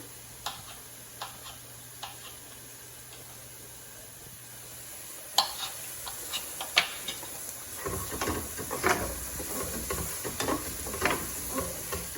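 Garlic cooks in a pan for a comfort-food pasta dish, opening with quiet ticking and light stirring clicks that give way to a steady, close sizzle and crackle building over the second half.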